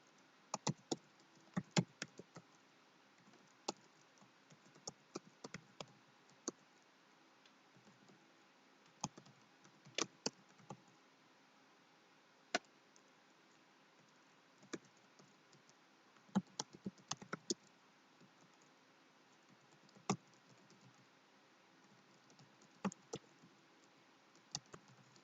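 Scattered, irregular keystrokes on a computer keyboard while someone types into an online chat, with clusters of quick taps separated by long quiet gaps, faint and close under steady low background noise.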